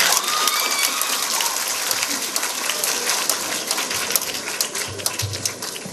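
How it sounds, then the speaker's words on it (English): A crowd applauds at a live election broadcast event, a dense continuous clatter of many hands that stays fairly even for several seconds with no voices over it. "I think you need a big round of applause"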